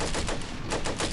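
Dense automatic gunfire from the World War II strategy game Combat Mission: Beyond Overlord in a battle near Carentan, with rapid overlapping bursts rattling continuously and loudly for the whole moment.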